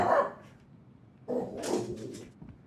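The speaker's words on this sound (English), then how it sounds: "You heard a dog bark." Dog barking in the video game Tell Me Why, a short burst at the start and a louder, noisier cluster of barks midway, fairly close and heard alone without talk.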